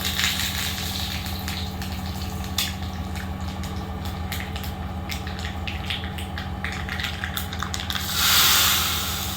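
Mustard seeds crackling and popping in hot oil for tempering, over a continuous hiss, close by, with a brief louder surge of sizzling near the end.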